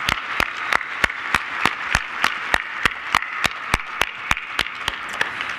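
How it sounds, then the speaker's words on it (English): At a town hall meeting on a shared action plan, the audience applauds its moderators and facilitators. One sharp, steady clapper sits close by, striking about three times a second over a softer wash of crowd applause. "so we can give you a round of applause"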